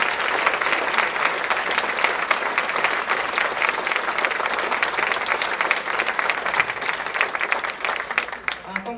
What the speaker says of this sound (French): je vous inviterai à les applaudir